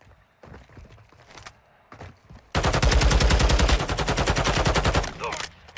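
Gunfire in a Warzone match: a few faint scattered shots and thumps, then a loud sustained burst of rapid automatic fire lasting a few seconds before it tapers off.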